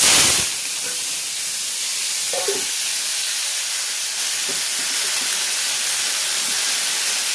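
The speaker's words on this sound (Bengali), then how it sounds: "এবার আমি দিয়ে দিচ্ছি আলু ভাজাটাকে।" Cut potatoes hit hot, smoking oil in a home kitchen, setting off a sudden loud, steady sizzle and hiss that carries on evenly to the end with a few small pops.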